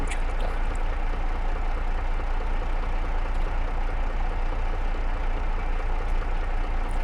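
A tractor engine idles steadily in Farming Simulator 22, a constant low rumble running evenly throughout with no talk over it.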